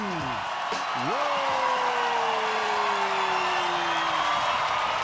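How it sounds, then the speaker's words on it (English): A crowd cheering and whooping at an Olympic breaking battle in Paris, a loud sustained roar of voices with a rising whistle-like whoop cutting through, continuous from start to finish. "the crowd goes wild"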